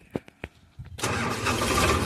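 A Sonalika 42 tractor hitched to a trolley and stuck in muddy, rutted ground cranks with a few short ticks, then its engine catches and settles into a loud, steady rumbling idle close by.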